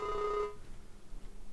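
A telephone rings briefly in the Farming Simulator 19 video game, one short steady electronic ring that stops and leaves a low background hum.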